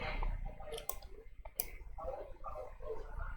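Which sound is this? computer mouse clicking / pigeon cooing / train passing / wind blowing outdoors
computer mouse clicking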